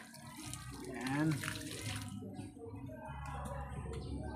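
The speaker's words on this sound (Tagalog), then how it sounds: "Ito siya, tubigan na natin siya." Water pours from a hose or container onto a newly planted bougainvillea, a steady splashing flow that runs throughout, with a brief voice partway through.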